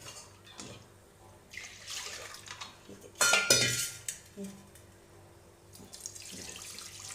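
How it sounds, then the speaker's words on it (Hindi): Mung and masoor lentils rinsed in water in a kitchen, with running tap water, splashing and swishing, and clinks of a metal pot, a louder splash burst midway, close and without speech. "देखिए अब इसको हम 2-3 पानी से, कभी भी आप कोई भी दाल बनाएं उसको 2-3 पानी से धुले जरूर।"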